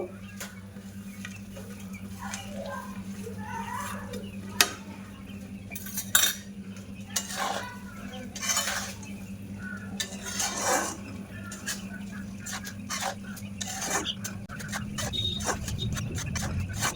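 Boondi go into thick hot sugar syrup for a traditional Bengali palm sweet, with scattered clinks and scrapes of a utensil against a metal pot over a low steady hum, soft and intermittent.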